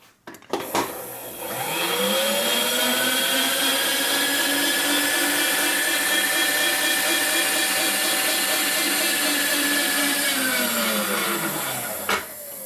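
A milling cutter takes a heavy cut on a part for a 1942 Harley-Davidson 45 WL flathead stroker engine, a loud steady whining, grinding drone that holds for about ten seconds before winding down, with no talking.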